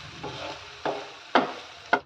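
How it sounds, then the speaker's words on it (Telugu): A spoon stirs sabudana khichdi in a pan after lemon juice is added, making soft scraping swishes with a few sharper knocks against the pan over a faint sizzling background. "నిమ్మరసం కూడా యాడ్ చేసిన తర్వాత ఒకసారి మళ్ళీ మనం ఇలా బాగా కలుపుకోవాలి"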